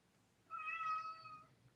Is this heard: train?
no